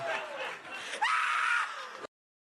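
A short burst of human screaming played as a comedy segment's featured scream, rising sharply about halfway through into a loud, strained shriek before cutting off abruptly.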